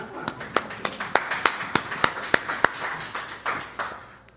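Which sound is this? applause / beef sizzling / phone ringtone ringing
applause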